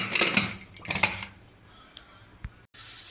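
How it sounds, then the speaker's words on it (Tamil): A pressure cooker lid is closed in a home kitchen: a few soft metallic clatters and clinks, then sharp isolated clicks and a final metal knock, close and fairly quiet with no talk. "விட்டு குக்கரை மூடி வச்சுக்கலாம்."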